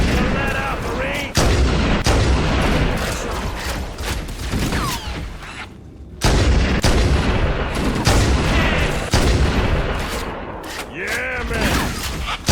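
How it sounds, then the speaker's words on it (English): Stationary turret guns fire in rapid, loud bursts during a firefight in Halo: Combat Evolved Anniversary, a dense clatter of shots with brief pauses, mixed with explosions and battle noise throughout. "Those stationary guns are gonna tear us to pieces."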